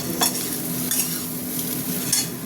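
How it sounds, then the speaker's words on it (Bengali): Food frying in a pan while being stirred during preparation of jackfruit-and-prawn curry, a steady close sizzle with a few brief scraping stir strokes. "ভাজা হতে থাক, দেখছো ভালোভাবে ভাজা হয়ে গেছে।"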